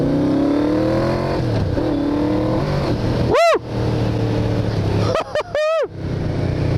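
A 1986 Yamaha VMAX 1200 motorcycle engine running steadily on an evening ride in Alicante, Spain, a loud close continuous drone with a few sharp whooshing passes of other vehicles near the end.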